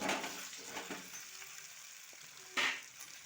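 Chopped cabbage with chili powder sizzles quietly in oil, a soft hiss with a few clatters of a spoon against the pan and a brief louder scrape partway through, no voices.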